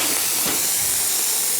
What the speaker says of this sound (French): On va déglacer au vinaigre.